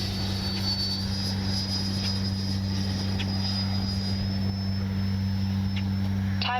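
A Freewing Zeus 6S 90mm RC sport jet flies steadily, its continuous electric ducted-fan whine holding at a fairly constant level over a low steady drone, with no talk.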